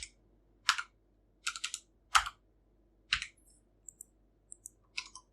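Computer keyboard keys pressed one at a time, about ten separate close clicks with irregular gaps between them in an otherwise quiet room.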